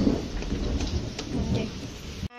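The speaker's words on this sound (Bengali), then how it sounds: "বৃষ্টি হচ্ছে, বাজ পড়ছে" Steady rain pours down during a storm while a deep roll of thunder rumbles through the downpour, the sound full and close before cutting off abruptly.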